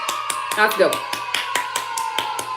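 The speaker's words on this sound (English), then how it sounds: "I'm going to give a round of applause for that one" A round of applause from a small group gives steady, evenly spaced claps close by for a couple of seconds, with a voice talking over them.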